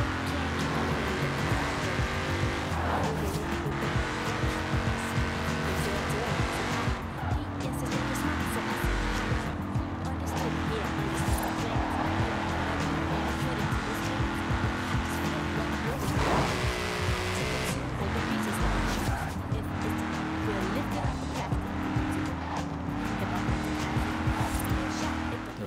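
Ford Mustang in the video game Forza Horizon 4 driving steadily with a continuous loud engine drone and intermittent tire squeal, layered under game music and ambient sound throughout.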